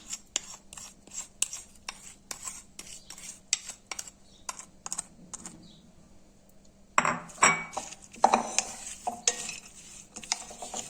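A spoon stirs dried tomato salad into its sauce in a bowl, giving a run of close, crisp clinks and scrapes in an uneven rhythm, with a short pause and then a busier, louder burst of mixing.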